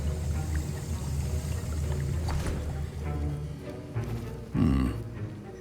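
A potion stirred in a cauldron in Hogwarts Legacy, giving a low, sloshing liquid churn with bubbling swirls and a louder splash near the end, steady and close.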